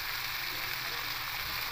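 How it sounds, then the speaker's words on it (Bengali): Potatoes and greens fry steadily in a pan over medium flame, giving a dense, even sizzle that holds close and constant with no talk over it. "মিডিয়াম ফ্লেমে করবো এটা রান্নাটা, মানে আলুগুলোকে ভাজতে হবে"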